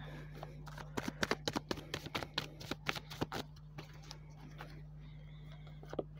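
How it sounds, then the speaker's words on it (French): Tarot cards are shuffled and drawn, giving a quick run of crisp, close flicks and riffles. The flicks come densely at first, then thin out to a few scattered slides against a low, steady hum. "Je vais tirer une carte là."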